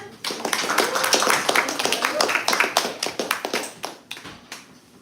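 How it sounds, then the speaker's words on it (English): An audience claps at a solstice poetry reading in a San Francisco café, a brisk crowd of hands that swells quickly, then thins into scattered claps and fades out. "One more clap for Lauren."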